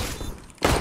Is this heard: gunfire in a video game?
yes